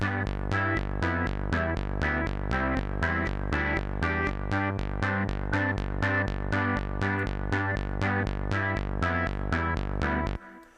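A steady, looping OP-Z drum machine beat of evenly spaced pulses, loud and continuous, with a low thumping pattern and no bass, snare or hi-hat, ending abruptly.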